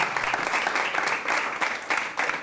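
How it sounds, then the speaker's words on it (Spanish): An audience at a sales and business talk breaks into steady, fairly close applause, dense rhythmic clapping filling the whole stretch with no voices. "Un aplauso, porque esto ha sido grande."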